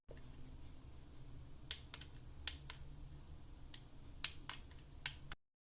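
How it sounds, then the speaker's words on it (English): Sharp little clicks from the push buttons of a LEGO smartphone, about eight separate presses spaced unevenly over a quiet background and close to the ear. "I can hear the clicking sound as I push each button"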